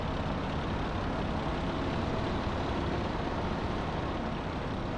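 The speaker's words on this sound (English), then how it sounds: "obviously no NVH pad on this tractor. Gear clunks are obvious" A tractor engine in the Farming Simulator 22 game runs as a loud, steady, heavy drone that holds unbroken for the whole stretch, with no separate gear clunks standing out.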